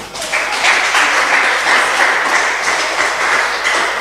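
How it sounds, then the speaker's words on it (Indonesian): A large church congregation in a hall of roughly 35,000 seats applauds for God, a dense, steady roar of clapping sustained without a break for several seconds. "Nggak ada yang tepuk tangan bagi Tuhan"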